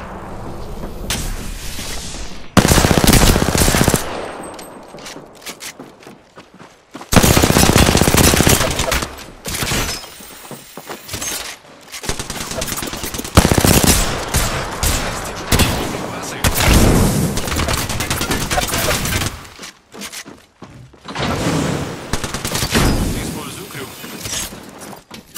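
Enemy gunfire in the Apex Legends video game, with repeated loud bursts of automatic fire and heavy blasts coming in waves across the fight, while a player talks over the action.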